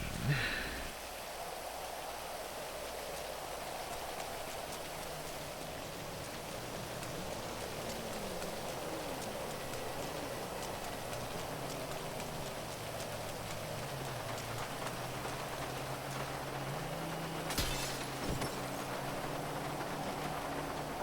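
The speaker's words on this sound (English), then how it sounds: "Rain." Steady rain from the video game GTA V, a soft continuous hiss of drops that stays even and fairly faint throughout, with a brief sharper tick near the end.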